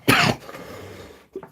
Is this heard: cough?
yes